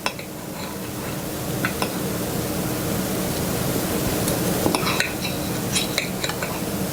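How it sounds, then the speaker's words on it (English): A butter knife cuts through a tender smothered fried pork chop on a plate, with faint scraping and light clinks over a steady close hiss. "I'm cutting it with a butter knife"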